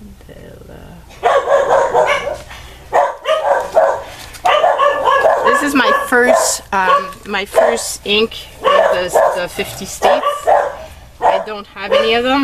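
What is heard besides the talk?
dogs barking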